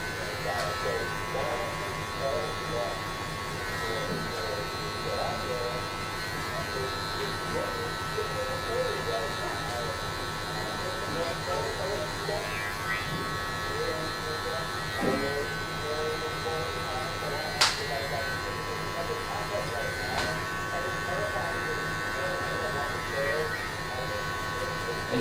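Electric hair clippers buzz steadily and close up while cutting a drop fade, with the lever partly closed as the bottom line is faded out; someone talks over the hum.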